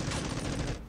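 A dense fusillade of overlapping gunfire from the strategy game March of War rolls on continuously for about a second, loud and unbroken.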